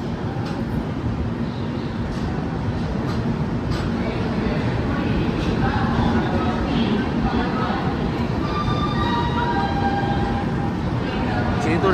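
The Howrah–SMVT Bengaluru SF Express pulling into SMVT Bengaluru station, a continuous low rumble of rolling coaches with faint squeals and tones toward the end, and people talking under it.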